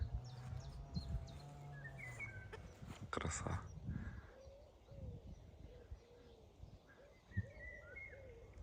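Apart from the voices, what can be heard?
Eurasian golden oriole singing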